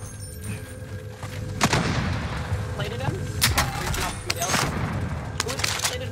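Repeated gunfire and sniper shots ring out in a Call of Duty Warzone 2.0 match, sharp cracks and short bursts scattered over a steady rumble, with players talking throughout.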